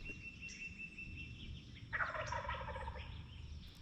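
A wild turkey tom gobbles once, a rapid rattling call that sounds faint and distant across open country during a hunt, set against quiet outdoor ambience with no talking.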